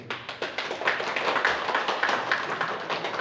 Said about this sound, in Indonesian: Kita beri aplaus dulu untuk para pengurus yang sudah dilantik.